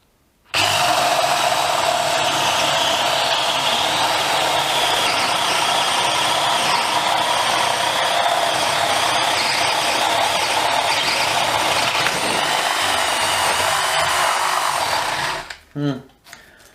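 A DeWalt Atomic DCD709 cordless combi drill bores through wood in one long, loud, steady whir that holds for about fifteen seconds, then winds down with a brief stutter as the bit breaks through.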